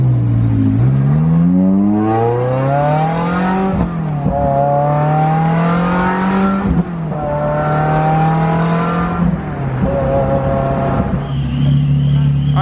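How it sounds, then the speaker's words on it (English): A Ferrari F355 with a fully straight-piped exhaust roars at close range, very loud, its engine note repeatedly climbing and dropping back in long sweeps, with brief breaks between surges. "this car is just idling and we already set off an alarm. That is how loud this car is"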